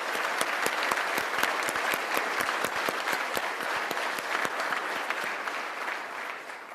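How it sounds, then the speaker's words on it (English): Audience applause at a Charlotte Fire Department recruit graduation ceremony, a sustained crowd ovation with sharp individual claps standing out, holding steady before easing slightly at the end. "Please give them a round of applause for all the work they put into our programs."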